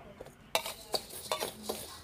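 Beef stir-frying in a pan for Thai-style beef larb, with a utensil scraping and clinking against the metal in several sharp strokes over a soft background sizzle, close and moderately loud.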